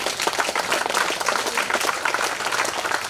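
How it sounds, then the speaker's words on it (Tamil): Church congregation at a Pongal gospel camp claps hands together, a dense, lively burst of applause throughout. "கைத்தட்ட முடியுங்க"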